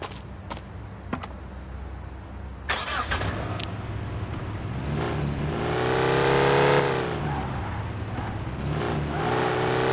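A car engine in Car Simulator 2 starting with a few clicks, then idling and revving up and down, the pitch rising and falling through the acceleration, steady and close without talk.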